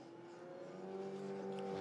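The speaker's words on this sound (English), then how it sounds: "So the cars make their way around" Alpine Elf race cars circulate slowly toward pit lane at the Barcelona circuit, a faint, steady engine drone with a sustained hum that swells gently as a car draws nearer.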